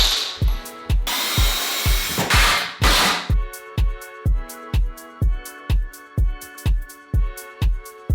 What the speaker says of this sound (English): To stop the wood splitting, I'm just going to drill a couple of pilot holes first.